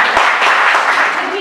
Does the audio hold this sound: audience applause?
yes